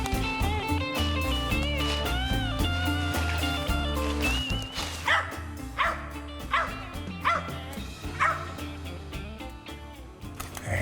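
A hunting dog barks repeatedly during a squirrel hunt, sharp yips and bow-wows coming in an irregular series over faint outdoor background sounds.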